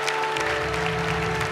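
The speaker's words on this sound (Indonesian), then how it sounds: "Boleh tepuk tangan sekali lagi untuk Sofia." Studio audience at an Indonesian televised dangdut singing competition applauds steadily, a dense sustained wash of clapping with no pause, crowd noise and a faint tonal hum underneath.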